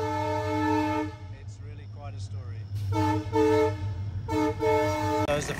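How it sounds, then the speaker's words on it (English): A freight train hauling empty coal trucks sounds its horn as it passes under a new road bridge heading back to the port of Vasco, with loud sustained tonal blasts broken by short gaps while a voice talks over them. "As the freight train makes its way under this new road bridge back towards the port of Vasco with its empty coal trucks"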